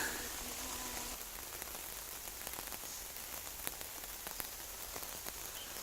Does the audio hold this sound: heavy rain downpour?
yes